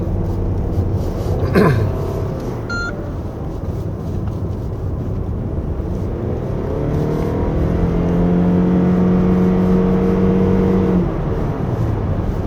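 A 2024 Toyota Alphard 2.5 hybrid drives on a winding road, its engine drone climbing steadily in pitch under acceleration, with a brief whoosh early on and constant road noise.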